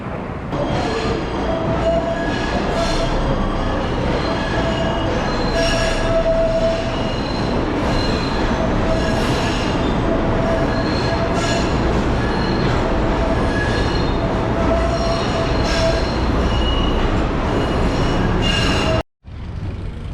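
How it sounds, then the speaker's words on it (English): A PATH subway train rolls along at speed with a loud, continuous rumble and drone, its wheels squealing in high-pitched tones on and off throughout, and a brief sudden drop out near the end. "We're just getting a ticket here, and we'll get the PASS train over."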